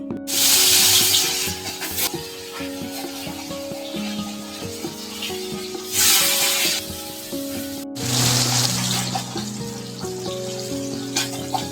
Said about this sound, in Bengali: এবার আমি মাছটাকে ভাজবো।